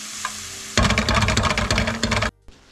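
A metal spoon stirs a chicken patty mixture in an old pot, giving a burst of close, busy scraping and clattering for about a second and a half before stopping abruptly.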